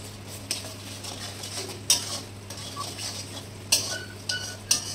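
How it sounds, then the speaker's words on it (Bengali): A spoon scrapes and knocks against a pan as chickpea and potato masala is stirred, with a handful of sharp clinks over a faint low sizzle, close by and without speech. "মশলাটা ভালোভাবে কষে গেছে, আমি তাও আর একটু নাড়াচাড়া করে নেব"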